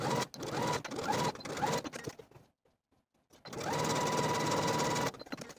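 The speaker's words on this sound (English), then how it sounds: "top stitch this seam twice" A sewing machine runs close up, top stitching a seam on a dress, in two bursts of rapid mechanical whirring split by a brief pause of near silence.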